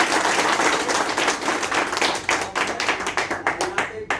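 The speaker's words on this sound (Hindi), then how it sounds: "जोरदार ताली होनी चाहिए।" Loud, energetic clapping from an audience at a network marketing seminar, a dense burst that breaks toward the end into more separated, rhythmic claps before fading out.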